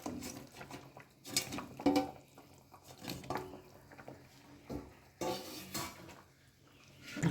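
Lentil fritters dropped one by one into a pot of simmering potato curry, with intermittent clinks and soft knocks of utensil on metal pot and a few sharper clatters, at close range.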